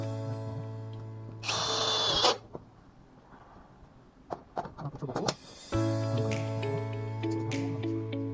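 A power drill drives screw bolts into a steel channel, with two loud whirring bursts separated by clicks and handling knocks, close by.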